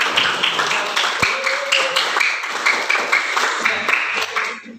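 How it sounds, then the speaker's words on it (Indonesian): A classroom of students gives a round of applause at the end of an Islamic religious education lesson, a dense continuous patter of many hands that fades out at the end. "beri tepuk tangan untuk semuanya ya"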